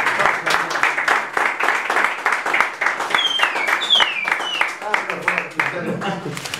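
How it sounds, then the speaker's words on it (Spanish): Audience applause at a seminar of an Argentine betta fish club, brisk close clapping that carries on steadily with voices and a whistle mixed in. "Ahora el aplauso y después el aplauso."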